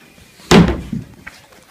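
A freshly hung door on a homemade Tardis build swings shut with one sharp, loud slam, followed by two smaller knocks as it settles, in an otherwise quiet room.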